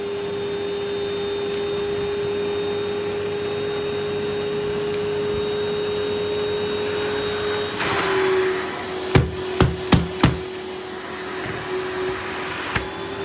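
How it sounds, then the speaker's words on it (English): Eureka Powerspeed vacuum cleaner running with its open hose, sucking up fluff and fine dirt: a steady, close motor drone with a rising rush of airflow partway through and a few sharp knocks and rattles near the end. "It obviously doesn't like this mess with the stair tool, so let's just try the open hose instead."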